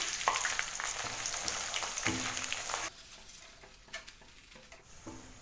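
Tapioca (cassava) chips sizzle and crackle in hot oil, with a dense frying hiss and occasional clinks of a utensil stirring the pan, the sizzle quieter in the second half.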